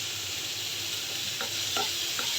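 Chopped onion and chili frying in a little oil in a pan, a dense continuous sizzle close by with a few short scraping stirs near the end.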